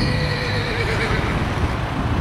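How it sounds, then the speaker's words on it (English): A horse whinnies amid steady outdoor background noise, the neigh rising and falling over a couple of seconds against a continuous roadside hum. "Great horse there."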